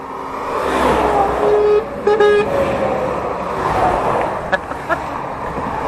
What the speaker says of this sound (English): He needs to sort his horn out, because that was that was pretty quiet